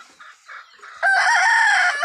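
Chickens cluck softly in short bursts at afternoon feeding time, then a rooster crows loudly and close, drowning out the quieter clucking.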